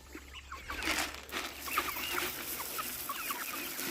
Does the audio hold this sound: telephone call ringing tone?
no